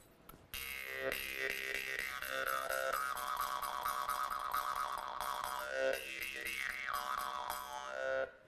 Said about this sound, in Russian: Это Арыкта хомус с серебряными подвесками